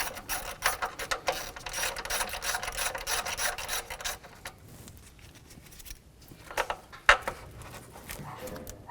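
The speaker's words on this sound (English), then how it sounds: "Using a 10mm socket, remove this nut for the wire harness bracket on the intake." A 10mm socket ratchet removing a nut from the intake of a 2007-2014 Cadillac Escalade produces rapid, rasping ratchet clicks for about four seconds, followed by quieter handling noises and a single sharp tap, fairly faint.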